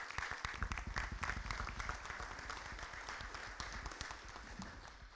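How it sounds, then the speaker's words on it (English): Steady applause from a room full of people at a town hall meeting, many hands clapping together continuously for several seconds at moderate distance. "Please give her a round of applause."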